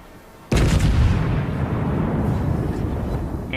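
A battleship's front guns firing in World of Warships, one sudden loud boom followed by a long rolling, rumbling decay that lingers for several seconds.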